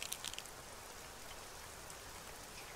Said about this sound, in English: Nancy's wacky rain adventure.